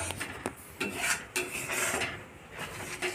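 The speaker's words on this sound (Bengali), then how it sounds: "ভালো করে নাড়তে হবে।" Spoon scraping and clinking in a pot as palm-fruit kheer with milk is stirred, several short rasping strokes at close range, with no voices.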